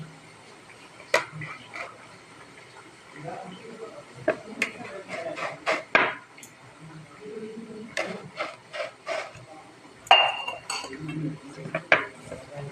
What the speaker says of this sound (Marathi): मी गलास घेतला आहे गलासानं कापून घेते